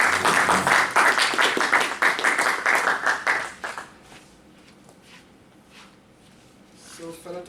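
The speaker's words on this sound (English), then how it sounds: "Big round of applause" Audience applause at a Toastmasters club meeting, a dense burst of many hands clapping for about four seconds, then thinning to a few scattered claps, light shuffling and faint handling noises.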